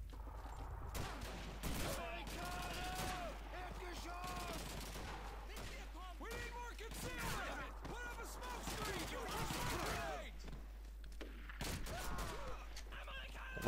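Dense, sustained gunfire from the game Call of Duty 2, rapid bursts and single shots overlapping continuously at steady loudness with voices and game sounds mixed in.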